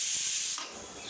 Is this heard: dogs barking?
no